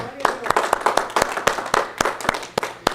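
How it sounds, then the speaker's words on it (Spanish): Scattered congregation clapping in a church service, sharp separate claps in an uneven rhythm for a few seconds, close and fairly loud. "¿Cuánto aplauden en el nombre de Cristo?"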